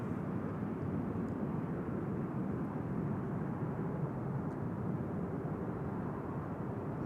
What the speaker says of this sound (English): ERJ is landing on 36 right